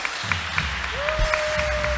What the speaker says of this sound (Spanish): Vamos a darle un buen aplauso